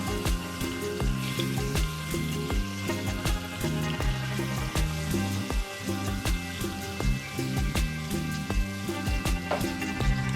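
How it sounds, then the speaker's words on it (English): A roast of beef browns in a hot pan, giving a steady, close sizzle and crackle with fine spitting pops that carry on evenly throughout without any voices. "you don't want to fry your roast for too long, just a couple of minutes on each side, just to brown it"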